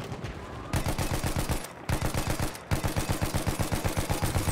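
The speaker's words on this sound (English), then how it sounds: "Suppressing fire." Suppressing gunfire in a Battlefield match, loud rapid bursts of automatic weapon fire in a steady rhythm, broken by two short pauses before resuming, with no talk over it.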